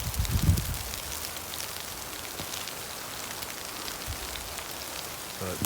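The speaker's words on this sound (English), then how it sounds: "The rain's growing." Rain falling on trees and the ground around a home in Dripping Springs, a steady soft patter with scattered drops, heard close and alone after a brief thump at the start.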